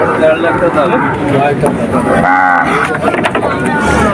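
Cattle at the Chuknagar cow market give a drawn-out low moo partway through. It rises above a steady, close hubbub of market voices and crowd noise.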